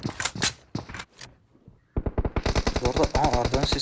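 Automatic gunfire in the video game PUBG: rapid, loud bursts of machine-gun shots fill the second half after a few scattered sharper sounds and a brief quiet gap.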